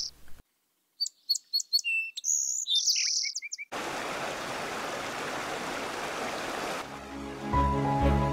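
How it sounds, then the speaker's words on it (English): Songbirds chirp and trill in quick bursts beside Coyote Creek, clear and fairly close, followed by steady rushing water noise from the creek. "We can hear the sound of songbirds."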